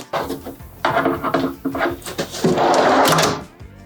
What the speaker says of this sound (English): I need to remove the drawer from the sliders in order to access the last set of mounting holes.